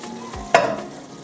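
A spoon stirs a thick, bubbling vegan praline mixture in a pot, one distinct scraping stroke over soft simmering bubbles, close and moderately quiet.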